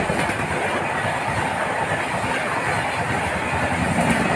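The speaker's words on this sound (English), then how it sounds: "Coromandel Express leaving the Balasore railway station." The Coromandel Express rolls out of Balasore railway station with a steady, loud rumble of wheels on rails and a continuous rattling clatter of passing carriages.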